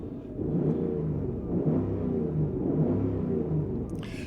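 A 2000 BMW E39 M5 V8 engine revved a couple of times nearby, a deep throaty roar that rises and swells steadily, loud and alone with no talking.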